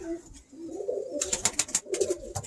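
A Birmingham Roller pigeon hen cooing close by, a few soft low throaty coos mixed with brief wing or feather rustles.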